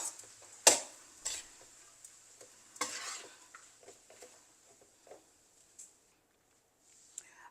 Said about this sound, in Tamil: நெருப்பை கொஞ்சம் குறைச்சிட்டு நல்லா மிக்ஸ் பண்ணுதான்